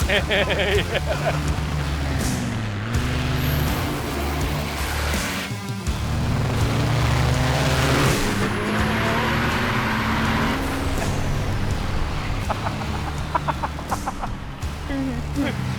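A tuned semi-truck at a drag race accelerates with a loud, rough engine roar that rises and falls in uneven surges, while people talk over it throughout.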